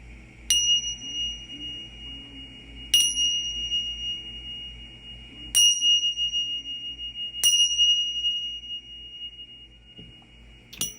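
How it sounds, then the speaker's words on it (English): Tibetan tingsha cymbals strike five times at spaced intervals, each a bright metallic ping with a long, clear ringing decay, close and distinct over a low background hum. "There are Tibetan tingsha symbols or bells."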